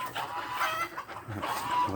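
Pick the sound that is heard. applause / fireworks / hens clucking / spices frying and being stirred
hens clucking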